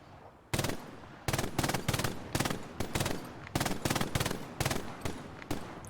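A machine gun fires repeated short bursts during training, each burst a loud, close clatter of rapid shots separated by brief pauses, with no talking over the firing.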